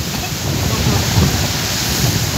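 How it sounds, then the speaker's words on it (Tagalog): Strong wind blows hard outdoors with rain, a loud continuous roaring buffet across the microphone. "Ala, kusog kayong hangin no, Ginoo ko."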